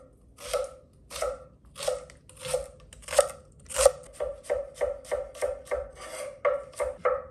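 A knife slices through a shallot on a cutting board in steady, close strokes, each a crisp rasping cut. The cuts start slow and spaced, then speed up into a quicker even rhythm with no talking.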